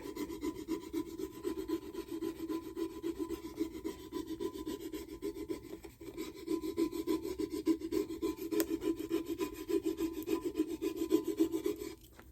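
Material being rubbed by hand onto a surface after its backing is peeled off, a steady, close, continuous scraping-rub lasting throughout with slight swells in intensity and no talking.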